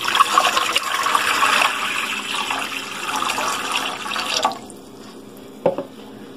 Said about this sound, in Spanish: Vamos a agregar 1 litro de agua.